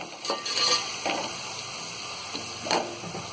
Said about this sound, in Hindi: और इन सारी चीजों को हम थोड़ी देर भून लेंगे।